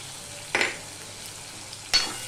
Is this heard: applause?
no